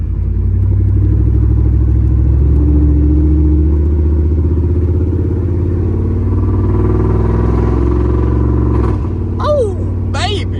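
An OBS crew cab truck with true dual exhaust and a slight exhaust leak rumbles deep and loud as it revs, the engine note holding steady close by, with voices and brief sharp sounds near the end.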